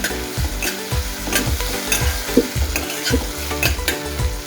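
Cumin and mustard seeds crackle with green chillies in hot oil for a traditional chilli dish, loud close sizzling broken by repeated rhythmic stirring knocks, with no voices.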